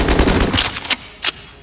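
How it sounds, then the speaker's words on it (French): Rapid gunfire from guns in the video game Enter the Gungeon, a loud dense volley of shots for about a second, then a few isolated bursts with a final sharp shot. "Tire des fusils. Le bang bang."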